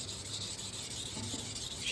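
A Galaxy kitchen knife is drawn across a wet 1K Gritomatic whetstone in a steady, continuous gritty rasp, close and alone, the strokes blending into one even scrape.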